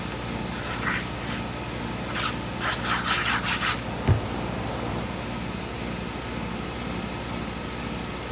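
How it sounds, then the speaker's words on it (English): Ink rubbed along the freshly trimmed edge of a paper card for a Graphic 45 Steampunk Spells craft page, giving soft, faint scratchy rubbing strokes in short bursts over a quiet room hum. "We'll ink the side we trimmed."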